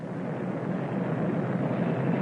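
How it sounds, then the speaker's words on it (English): An airplane flying nearby over open water in a 1934 film, a steady, droning engine rumble holding even in loudness, with no talk. "It's like a plane over there."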